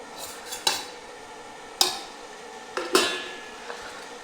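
Washed metal dishes and pots are handled in a home kitchen: several sharp clanks and clinks ring out at irregular intervals over a quiet background, with no talk.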